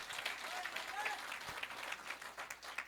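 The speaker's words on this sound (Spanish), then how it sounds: "Apláudale." A congregation applauds together at a Quechua-language church festival service in Ocopa, Huancavelica, a steady wash of clapping held at moderate level from start to end.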